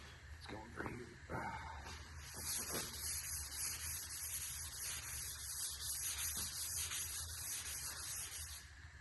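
600-grit sandpaper rubbing over freshly sprayed spots on the body of a 58-year-old Dodge crew cab, a steady close scratchy hiss with a few stronger strokes near the start.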